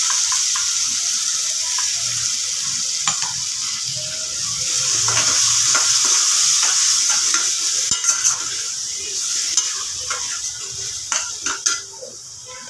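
Ground tomato, ginger and garlic paste dropped into oil with chocolate-brown fried onions, hissing steadily up close while a spoon stirs and clinks against the pan, with no voices.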